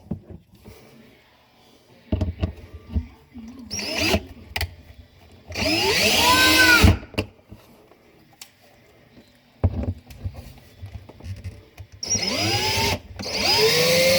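A power driver unscrews screws on the wiring of a GE glass electric cooktop in several separate whirring bursts, each rising and falling in pitch, with quiet gaps between them.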